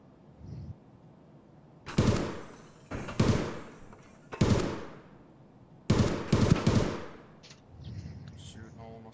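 Bursts of gunfire in Escape From Tarkov: several sharp, loud volleys in quick succession, some single shots and a rapid cluster, separated by short quiet gaps with faint background activity.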